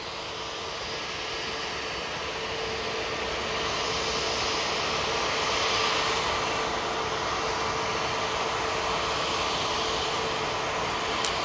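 A passenger airplane rolls down the runway at Manchester Airport on its takeoff run, a steady, distant engine roar with broadband rush that swells slightly midway and holds without a break, with no talk over it.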